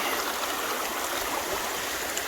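Steady rushing and babbling of a creek over bedrock, a continuous close wash of flowing water with no other sounds.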